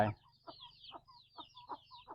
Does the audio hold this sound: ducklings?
yes